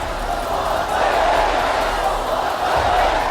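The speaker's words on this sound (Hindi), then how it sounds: "लेबनान की राजधानी बेरूत में ये भीड़ देखिए।" Large crowd at a rally in Beirut, a dense continuous roar of many voices swelling and chanting, loud and close throughout with no single speaker standing out.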